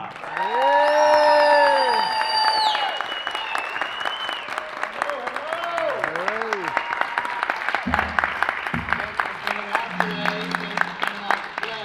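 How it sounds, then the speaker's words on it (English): A convention audience breaks into loud, sustained applause and cheering welcoming actor Erik Estrada, clapping dense and continuous for the full stretch, with a few stray voices and a brief low tone rising out of the crowd noise midway. "let's give another round of applause for none other than Mr."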